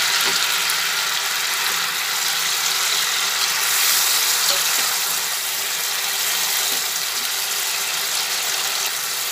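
Onion and garlic fry in hot oil in a wok, giving a steady, close crackling hiss that holds evenly throughout with no talking.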